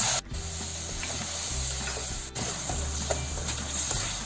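Sugar caramelizing in a pan over a low gas flame, with a little water poured in for colour, gives a steady close sizzle and hiss while it is stirred, with scraping and light clatter throughout.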